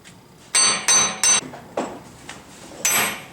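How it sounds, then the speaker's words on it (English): Sharp metallic hammer strikes pounding out a wheel stud on a 2006 Hyundai Sonata, about six blows in an uneven rhythm, ringing close and loud against a quiet background. "so we can pound the stud out with the hammer"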